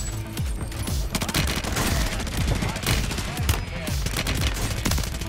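Dense video game gunfire in a close, nonstop barrage: rapid automatic bursts with sharp cracks and booms, steady throughout and busy across the whole clip.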